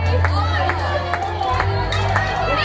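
A crowd cheers and shouts at a 3-vs-3 team fight event between Australia and South Africa, a loud, dense roar of many voices that carries on throughout.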